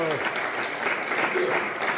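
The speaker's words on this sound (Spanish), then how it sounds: "Denle un aplauso fuerte a su nombre" A church congregation claps loudly together in a dense, continuous burst of applause lasting a couple of seconds.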